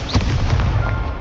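A fiery spell blast from the Incendio fire spell in the Hogwarts Legacy wizarding game: a short, loud whooshing burst with crackling flame, close and dense for about a second.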